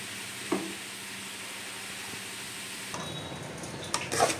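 Spice masala frying in oil in a small iron pan for a Maithil fish curry, a soft continuous sizzle with a few stirring clinks and scrapes near the start and end.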